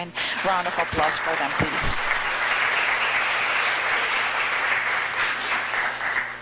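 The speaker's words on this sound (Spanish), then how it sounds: "por favor un gentil aplauso" Audience applause at an international educational leadership symposium in Costa Rica, dense steady clapping filling the room, loud and sustained after a few opening claps.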